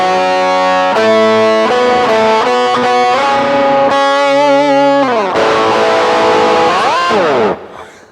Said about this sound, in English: Obviously that's harmonizer with distortion.